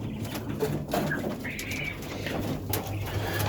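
Young two-month-old laying quails in a pen give soft, scattered cooing calls and brief chirps amid a low, steady background hum.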